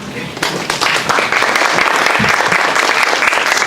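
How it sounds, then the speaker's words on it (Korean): Audience applause greets a guest speaker at a Korean internet club seminar on artificial intelligence, steady dense clapping filling the room for a few seconds with faint voices underneath. "여러분 박수 부탁드립니다."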